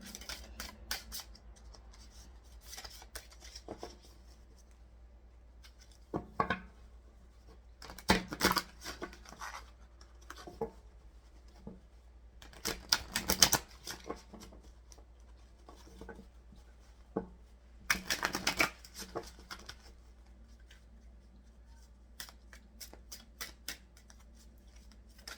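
Oracle cards being handled and drawn for a pick-a-pile reading: soft, scattered papery snaps and brushing rustles come in short bursts over a quiet room, with no talking.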